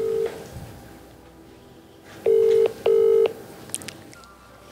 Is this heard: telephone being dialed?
yes